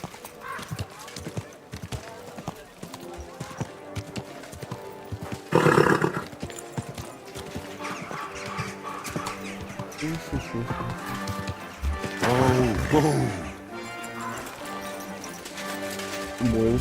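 Horse hooves clip-clop steadily under ongoing talk, with a couple of louder bursts of voices and movement partway through.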